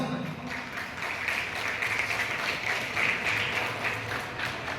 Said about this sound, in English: Let us give a big round of applause to our talented students for their wonderful dance performance.